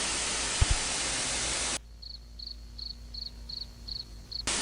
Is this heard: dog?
no